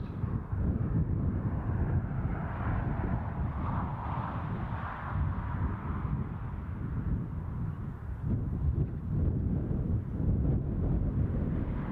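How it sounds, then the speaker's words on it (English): A strong gust of wind at an airport buffets the microphone with a steady, blustery roar for the whole stretch, low and rumbling, with no voices. "It's a proper good gust."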